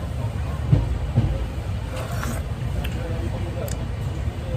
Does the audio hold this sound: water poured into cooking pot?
no